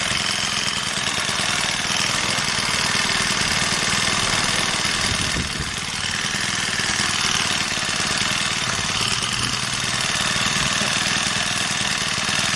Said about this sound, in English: Let that idle for a little bit.